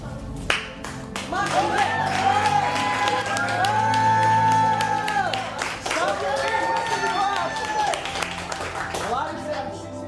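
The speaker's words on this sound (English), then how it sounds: "we always start our class off by applauding our students" Audience clapping and cheering to welcome students at the start of a class at a mission, steady applause with whoops, mixed with music and voices throughout.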